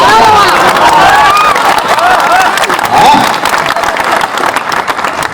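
A crowd at a comedy poetry gathering breaks into loud applause and cheering, with shouts and whistles over the clapping, close and sustained before it thins out toward the end.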